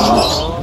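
Racing pigeons give a soft, throaty coo, loud and close by, one brief call that blends with the birds' rustling.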